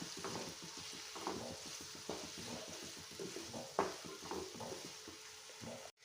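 Prawn roast with green chillies stirred in a frying pan, rhythmic spatula scrapes and taps over a steady sizzle, close and quiet, ending abruptly.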